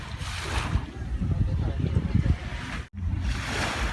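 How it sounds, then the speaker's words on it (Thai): Sea waves wash and roll steadily onto Bang Saen Beach, Thailand, nearby, with a soft rushing surf and a voice talking underneath. "ชวนเพื่อนๆมาฟังเสียงทะเลด้วยกันนะคะ"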